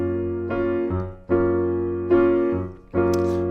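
Piano chords from a song tutorial are played in a steady eighth-note left-hand rhythm, with several sustained chord strikes sounding clear and close, with no talking.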